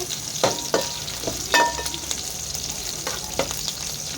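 Onions fry in a pan for chicken biryani, a steady sizzle broken by several sharp scraping stirs of a spatula, close and moderately loud with no talking.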